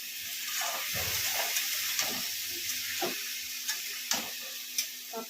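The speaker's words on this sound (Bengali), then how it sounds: "আদা, কাঁচা লঙ্কা আর রসুন একটু বাটা করে নিয়েছি, তাকে একটু মশলার সাথে কষিয়ে নেব।" Ginger, green chili and garlic paste fries with spices in a pan for a prawn and pui shak dish, a steady bright sizzle and hiss throughout, punctuated by occasional clinks and scrapes of stirring, with no talking.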